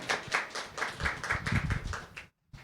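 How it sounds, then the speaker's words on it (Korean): A church congregation at a Sunday service gives a short burst of clapping that breaks off abruptly, then a single faint clap follows. "박수."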